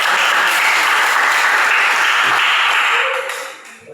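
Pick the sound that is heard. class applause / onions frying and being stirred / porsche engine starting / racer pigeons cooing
class applause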